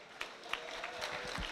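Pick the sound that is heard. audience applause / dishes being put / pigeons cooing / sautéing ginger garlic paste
audience applause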